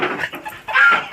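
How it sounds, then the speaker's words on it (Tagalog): Chickens clucking close by, a few short bursts followed by a longer, louder cackle. "May manok ako dyan."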